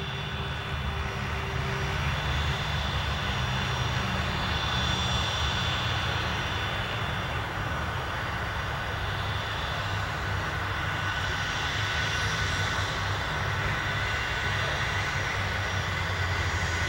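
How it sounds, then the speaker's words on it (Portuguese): A Learjet 45 jet roaring steadily and loudly at close range during takeoff, a continuous broad engine rumble with a high whine that holds level throughout. "Gil Amarais Ciente, vamos levar a decolagem."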